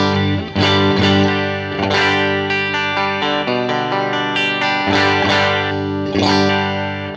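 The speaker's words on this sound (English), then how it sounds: "we're going into a Blackface Vibrolux. So the clean sound, without anything." A clean electric guitar runs straight into a Blackface Vibrolux amp with no effects, playing loud sustained chords with clear, bright attacks at a steady strum rhythm, up close and alone.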